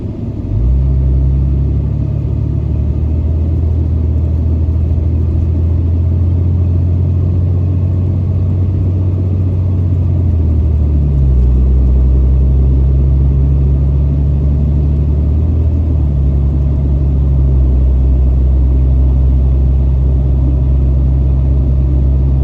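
A diesel pickup truck with its DEF and EGR systems deleted drives steadily, its engine giving a loud, continuous low rumble that shifts pitch a little as it cruises, with no talk.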